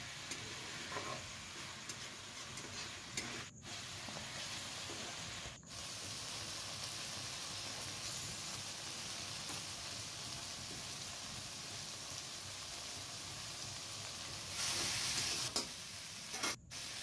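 Potatoes stir-fried in a pan for rui fish curry give a steady, close sizzle with continuous scraping and stirring, broken by a few brief pauses and a brighter hiss near the end.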